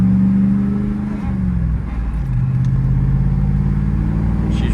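A GMC Sierra truck engine idles steadily right after being restarted with its check engine light on and the bed removed, a loud, close, continuous low rumble with a slight dip in pitch partway through.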